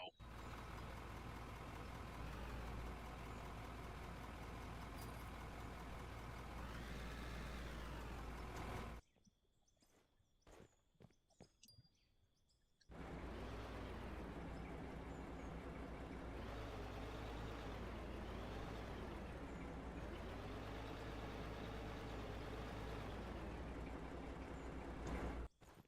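A fuel truck idles in the mining game Out of Ore, its constant low engine drone broken by a few seconds of near-quiet with light clicks before the rumble returns and carries on steadily to the end.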